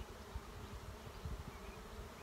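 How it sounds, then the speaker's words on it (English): A honey bee swarm gathering around a tree, a dense, close, continuous buzz of many wings with no voices. "Bees are just so interesting and so cool."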